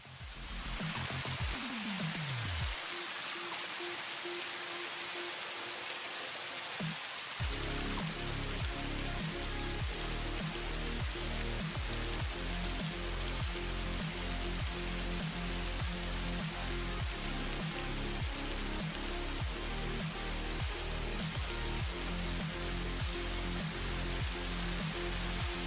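Steady video game rain pours throughout with a constant hiss, alongside a repeating layered musical background; the patter is dense and even from start to finish.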